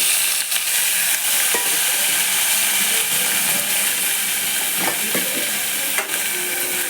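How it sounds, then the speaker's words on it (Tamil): Eggplant, carrot, sweet potato and beans being sautéed in a pan for home-style sambar, giving a steady soft sizzle and hiss throughout with a few faint stirring knocks, no talking. "இதை லைட்டாக நம்ம வதக்கி விட்டுக்கலாம்."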